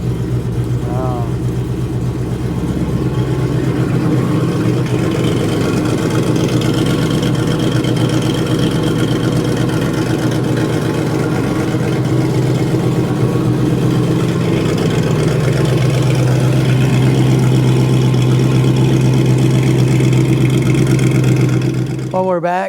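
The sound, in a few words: 1969 Chevy C10 truck fuel-injected 5.3 engine idling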